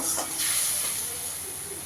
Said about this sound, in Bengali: দিয়ে মশলাটাকে ভালো করে একটু কষিয়ে নেব।